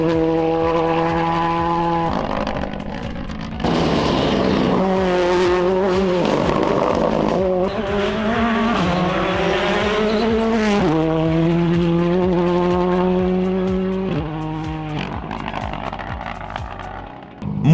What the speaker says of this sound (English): Suleiman Isuf, better known as Sol, put in a stellar first-time drive in his Ford Fiesta R5 to land an 8th overall on the timesheets